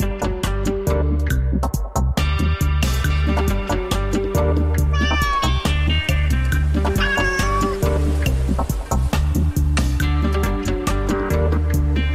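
A domestic cat meows repeatedly and loudly up close, its calls rising and falling in pitch over sharp rhythmic clicks and a steady low hum.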